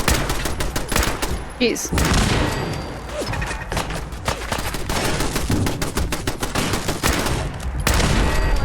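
An automated turret in Fallout 4 fires rapid, loud bursts of gunshots in quick rhythmic clusters throughout, with brief gaps between volleys and a short spoken exclamation partway through.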